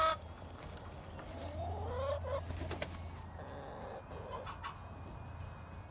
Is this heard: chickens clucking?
yes